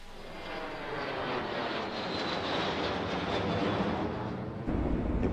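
A steady broadband roar of an airplane engine droning inside a passenger cabin, constant and fairly loud throughout with no talk.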